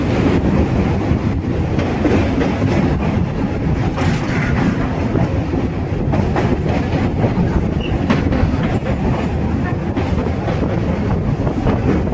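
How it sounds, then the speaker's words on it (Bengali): Loud, steady rattle and clatter of the Panskura to Digha local train running, heard from on board, with rhythmic clickety-clack of wheels over the rails and no talking. "আমরা পাঁশকুড়া টু দীঘা লোকাল ট্রেনে উঠেছি।"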